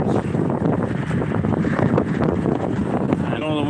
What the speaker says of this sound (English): I know the wind is loud.